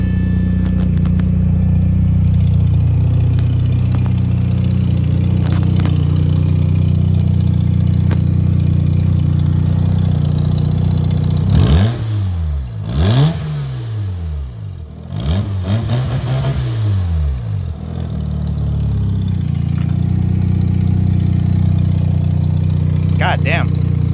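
A 1992 RE Amemiya Mazda RX7 rotary engine idles loud and close, a steady low droning hum, with a couple of revving swells midway before it settles back to idle.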